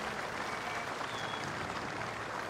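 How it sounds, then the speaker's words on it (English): A home crowd at a tennis match in Kooyong, Melbourne, applauds and cheers after Hewitt's semifinal win, a dense, sustained wash of clapping heard from within the stands, with no clear voices standing out. "The home fans cheer, and Hewitt has another win next to his name."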